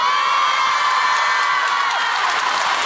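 Huge concert audience at a show in Beijing cheering and applauding for the group's leader, a dense, steady roar of claps and screams that stays loud and unbroken throughout.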